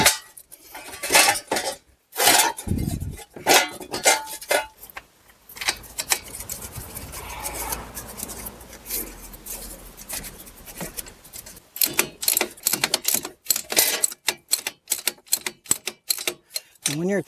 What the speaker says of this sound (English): we'll go ahead and start tightening the 3 bolts here for the wheel bearing